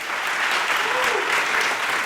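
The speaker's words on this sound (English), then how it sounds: "Can I get a round of applause?" Applause rises from a workshop audience at an academic machine learning conference after a prize announcement, a dense close wash of clapping with a faint voice beneath it.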